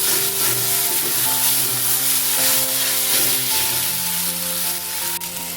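Water spinach with poppy seeds frying in a pan, a close, continuous sizzle with faint stirring scrapes and no talk, easing slightly near the end.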